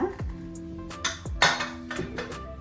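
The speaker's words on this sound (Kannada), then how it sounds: "ಈಗ ಕುಕ್ಕರ್ ತಣ್ಣಗಾಗಿದೆ ಓಪನ್ ಮಾಡ್ತಾ ಇದ್ದೀನಿ" Metallic clanks and a few clinking pings as a cooled pressure cooker's lid is worked loose and lifted, a handful of sharp hits with short ringing tails.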